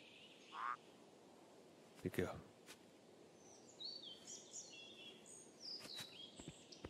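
A frog croaking in the game Open Country, a few short faint croaks amid bird-like chirps and quiet background ambience.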